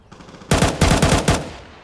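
Three loud, close bursts of automatic gunfire in Counter-Strike 2 on the Inferno map, each a rapid rattling volley separated by short gaps, with no talk over them.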